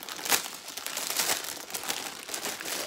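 Plastic packaging crinkling and rustling continuously as an AliExpress dress is unwrapped, close and fairly loud.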